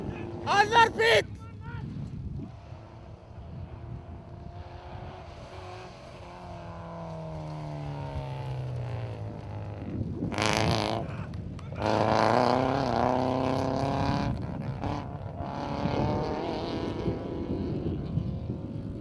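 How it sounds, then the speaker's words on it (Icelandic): A car approaches and drives past on a gravel rally stage, its engine rising and falling in pitch as it passes close by, while people shout nearby and wind buffets the microphone. "Annar bíll! Annar bíll!"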